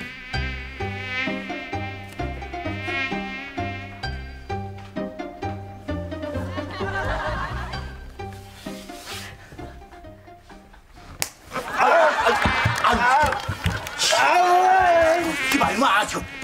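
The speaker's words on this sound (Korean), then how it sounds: "모기가 왜 이렇게 많은겨?" Mosquitoes swarm and buzz close by in a comedy sketch, a thin whining drone over background music, followed by a louder busy stretch with slaps and voices.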